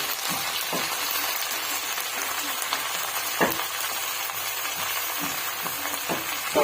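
Drumstick leaves (munagaku) fry in hot oil in a pan and are stirred now and then. A steady, even sizzle runs throughout, broken by soft scraping and tapping from the stirring.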